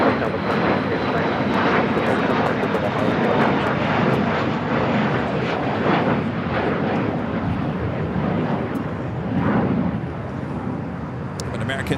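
Jet airliners, an American Boeing 737-800 and a United Airbus A321neo, roar at LAX in a loud, continuous broadband rumble with hiss that fades slightly toward the end, a voice talking faintly underneath.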